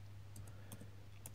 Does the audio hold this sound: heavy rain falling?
no